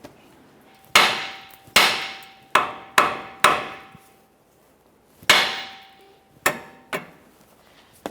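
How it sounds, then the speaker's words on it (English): A hammer strikes the outer tie rod end on the steering knuckle of a 2011-2020 Toyota Sienna, landing about eight sharp, ringing metallic blows at irregular intervals, each decaying quickly in an otherwise quiet garage. "we'll just continue on with a hammer, cause some vibration to break this free"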